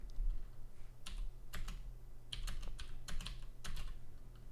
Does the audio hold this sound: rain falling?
no